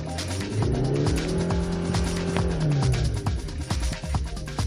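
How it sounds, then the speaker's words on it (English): A 2009 Hyundai Santa Fe diesel SUV engine with automatic transmission revs up loudly and rises smoothly in pitch, holding a strained high note before easing off, with some tire noise. "the sound of the engine is very normal. The RPMs go up very smoothly"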